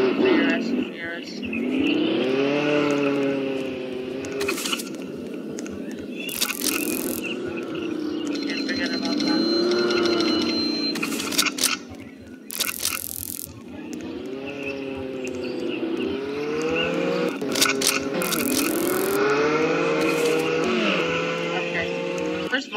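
Cars revving and accelerating in Roblox Jailbreak, engine pitch climbing and falling in repeated sweeps, loud and close, with a voice talking over parts of it.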